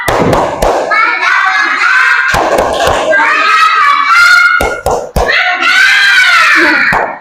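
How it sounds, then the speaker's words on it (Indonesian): A class of young children performs a 'tepuk mantap' clapping chant, loud sung voices in unison punctuated by sharp group claps in a rhythmic pattern, filling the room from start to finish. "Kasih tepuk mantap."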